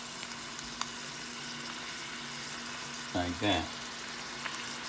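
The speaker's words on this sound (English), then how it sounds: "And I'm gonna stir that up." Ground meat for enchiladas fries in a pan as it gets stirred, giving a steady close sizzling hiss throughout, with someone speaking briefly near the end.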